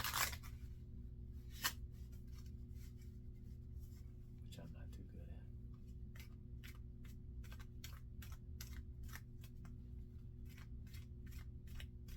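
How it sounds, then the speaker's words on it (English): Soft, rapid riffling and flicking of playing cards, repeated in quick bursts over a low steady background hum. "just the sound of shuffling cards"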